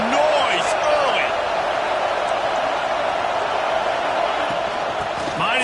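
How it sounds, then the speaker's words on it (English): Stadium crowd noise in an American football video game, a broad, steady roar of cheering that holds at an even level throughout, with occasional louder swells. "This crowd bringing the energy and noise early"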